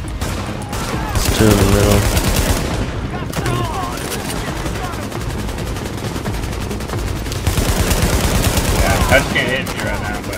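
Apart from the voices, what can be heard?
gunfire from video game Tom Clancy's The Division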